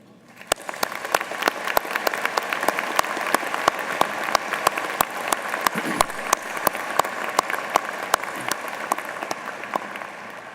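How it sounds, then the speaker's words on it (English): A commencement audience at Butler University bursts into sustained applause, with dense, steady clapping and sharp individual claps standing out across the whole stretch, at a moderate distance. "Let's take a minute now with a round of applause for the love, support, and sacrifice that has led to this wonderful occasion."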